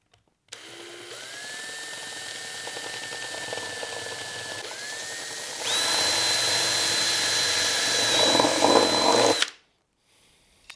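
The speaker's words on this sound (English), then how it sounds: "Rightio, 8mm drill. Make sure that goes straight down." A power drill with an 8mm bit whirs steadily for several seconds boring into a Suzuki DRZ400 motorcycle's front mudguard, its pitch rising as it bites in, then grinding louder and harsher before stopping abruptly.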